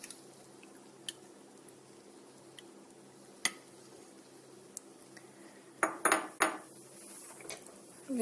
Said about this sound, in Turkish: Tahta kaşıkla güzelce karıştırıyorum.